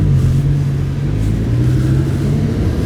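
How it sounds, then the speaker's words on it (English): Lamborghini Huracán LP610-4 with its stock exhaust, a loud continuous low engine rumble heard close up with no talking. "that's the bangs from the exhaust"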